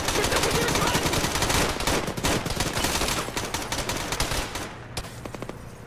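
Dense gunfire in a military shooter game played with a squad: rapid overlapping automatic and single shots crackling continuously and loudly, then thinning out slightly toward the end.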